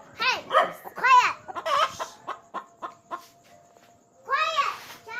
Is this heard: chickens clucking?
yes